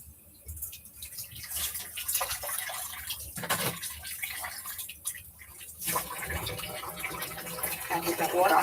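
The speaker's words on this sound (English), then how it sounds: "I get the water hot to melt the grease off of this pan" Hot water runs from a kitchen tap into a greasy pan, a steady splashing flow that swells and dips, with louder gushes near the end.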